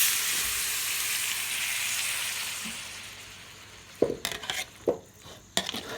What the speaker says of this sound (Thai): ผัดต่อไปให้หมูสุก